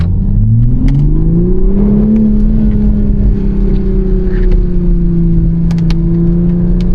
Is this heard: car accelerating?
yes